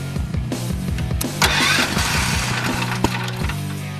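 A $150 electric-start 7-horsepower Chinese gasoline engine on a converted Yamaha G22 golf cart cranks with rapid starter pulses at full choke, then catches and runs with a loud, close, chugging beat.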